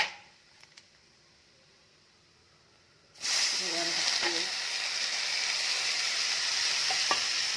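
Mustard seeds, turmeric and red chilli powder dropped into hot oil: near-silence, then a sudden loud, sustained sizzle that bursts in and holds steady with faint crackles.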